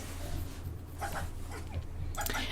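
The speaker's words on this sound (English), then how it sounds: "And this is our new dog," A pet dog in The Sims 4 gives a few short whimpers and yips, faint and spaced out over a low background hum.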